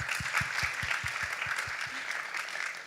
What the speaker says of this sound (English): Let's give our amazing panel members a round of applause